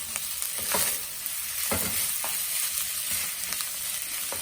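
Garlic fried rice is stir-fried in a pan, with a steady sizzle throughout and repeated scraping strokes of a spatula stirring the rice at a moderate, uneven rhythm, close and without talk.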